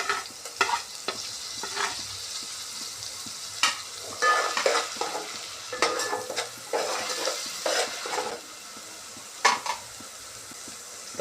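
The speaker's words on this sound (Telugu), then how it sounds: "ఆనియన్ పేస్ట్ యాడ్ చేసిన తర్వాత అల్లం వెల్లుల్లి పేస్ట్ కూడా యాడ్ చేసుకున్నాం." Onion paste with ginger garlic paste frying in a pan gives a soft, steady sizzle under intermittent scraping and stirring clinks, heard up close with no voices.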